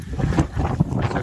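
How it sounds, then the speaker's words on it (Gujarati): Strong wind blows across a rainy hill station, buffeting the microphone in short, loud gusts close by. "મસ્ત પવન."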